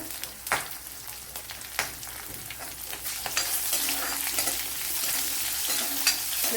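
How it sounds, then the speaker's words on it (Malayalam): Chopped ginger and garlic sauté in hot oil in a pan, giving a continuous close sizzle that grows slightly louder, punctuated by several sharp scraping stirs of a spoon. "ഇതെല്ലാം കൂടെ ഒന്ന് മൂപ്പിച്ചെടുക്കണം"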